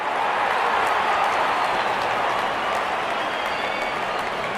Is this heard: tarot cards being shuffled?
no